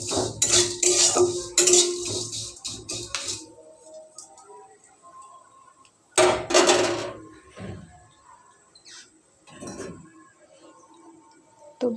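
Vermicelli fried in a pan while a metal spatula scrapes and clatters against it. The bursts of clinking are loud and close, separated by quiet gaps.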